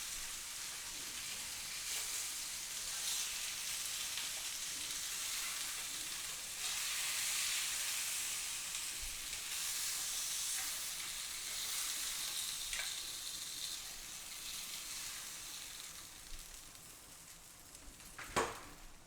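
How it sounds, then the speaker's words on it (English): Lamb chops sear in a hot pan with a steady, dense sizzle that runs close and loud throughout, swelling slightly midway, with a few sharp clinks near the end. "Nicely seared on both sides is what we have right here."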